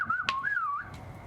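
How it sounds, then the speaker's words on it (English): A single person whistles a short melodic phrase up close, the tone sliding down and then rising again in a clear run, with a quiet room behind it. "So I'll do it whistling, because that's probably the easiest way to do this."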